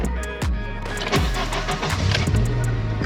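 A used car with about 165,000 miles cranks and fires up, a close, loud churning start with several quick pulses, settling into a steady running rumble.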